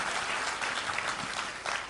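Audience at a poetry recitation breaks into applause, a dense, steady patter of clapping hands filling the short stretch at even loudness without any voices.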